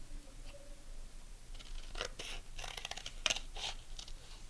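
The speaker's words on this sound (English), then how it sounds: "I'm going to cut these into a shape, two shapes, cut them together." Scissors snip through purple and yellow paper, cutting out organic shapes, in a few brief crisp cuts with rustling of paper over a faint background hum.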